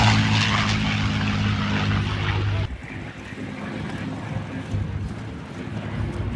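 A propeller-driven warbird roars past on a low pass at an airshow, a loud, close engine drone that abruptly drops off into a softer, receding hum as the plane moves away.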